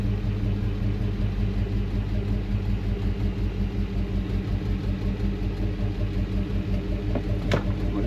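A Ford F100 truck engine runs at a steady low rumble while the truck cruises along, with a brief higher tick or rattle just after the seventh second.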